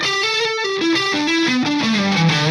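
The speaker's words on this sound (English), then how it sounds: "if I add distortion and I play a solo dry" A distorted electric guitar plays a solo dry with no delay, a descending run of sustained, overdriven single notes stepping downward one after another, loud and close with no trailing echoes.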